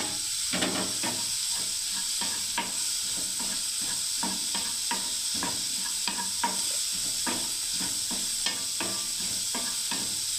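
Bitter gourd and eggplant sizzle steadily in a hot pan for about ten seconds, with a constant frying hiss and repeated scraping stirs from a spoon. No one speaks.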